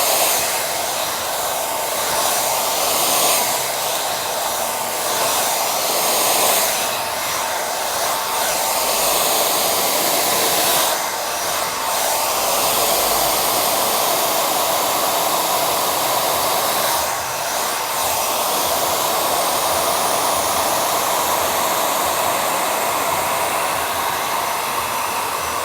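A hair dryer blows steadily and loudly for the whole stretch while hair is styled straight with a brush, its airflow shifting slightly in tone as the nozzle moves, with no talking.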